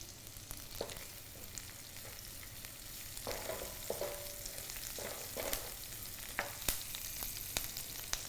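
Onion softening in a pan with sage and thyme just added, cooking for a butternut squash and bacon risotto; a quiet, steady sizzle with a few soft stirring scrapes and clicks of a utensil against the pan.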